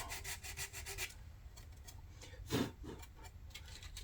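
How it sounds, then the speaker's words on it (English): Drywall sandpaper rubbing over painted plastic on a 1/350 scale USS Enterprise model, quick scratchy strokes close by, with a brief louder rasp midway. "Sandpaper, the drywall sandpaper."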